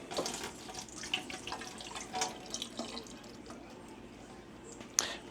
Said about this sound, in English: So basically, I'm just going to drain this